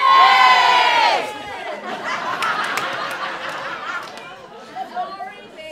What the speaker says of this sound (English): Give me a cheer for, mend the shower.